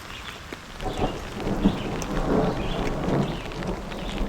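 Low rolling thunder rumbles over steady light to moderate rain in a forest, swelling and fading in the distance without any voices.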